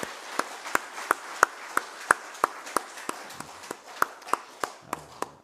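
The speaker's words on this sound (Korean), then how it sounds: "우리 장로님들 한번 박수 한번 쳐드리죠" Rhythmic, evenly spaced clapping for church elders at a Bible study gathering, moderately faint, with sharp single claps about three per second that sound like a congregation clapping in unison, with no talking.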